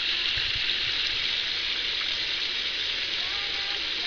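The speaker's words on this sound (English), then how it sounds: "This is our waterfall." A homestead waterfall pours in a steady, broadband rush that stays loud and constant throughout, with a faint low thump or two early on and no talking.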